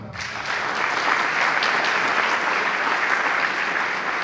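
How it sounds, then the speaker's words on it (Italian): A theatre audience breaks into steady, full applause that swells within the first half second and keeps going evenly. "Quindi un applauso e cominciamo."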